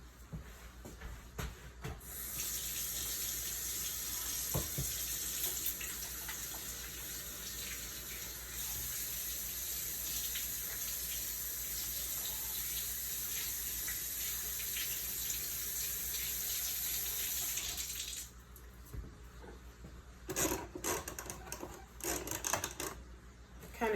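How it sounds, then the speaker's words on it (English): Hands washed under a running kitchen tap at a sink: a steady, close hiss of flowing water for most of the clip, then it stops and a few soft clatters and knocks follow. "I'm gonna wash my hands"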